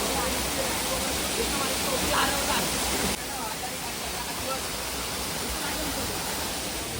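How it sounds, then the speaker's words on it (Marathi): Water of a stream rushes steadily near Usgaon waterfall, a loud continuous broadband roar close by, unbroken across the whole stretch with no distinct voices over it. "अरे हा नल्ला आहे रे, एक नंबरचा नल्ला."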